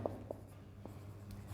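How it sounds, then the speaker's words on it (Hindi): Chalk or marker taps and short strokes on a board while a log formula is written during a maths lesson, a few faint scratchy ticks spaced apart over a low steady hum, no talking. "लॉग का फॉर्मूला मैं यहाँ पे लिख देता हूँ"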